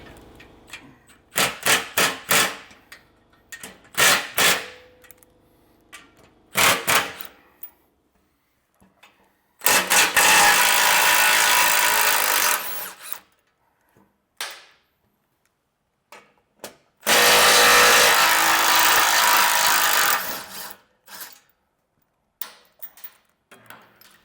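A power tool spins off four 15mm skid plate bolts on a 2024 Ford Bronco, heard as several short staccato bursts followed by two long, loud continuous runs, with quiet gaps between them.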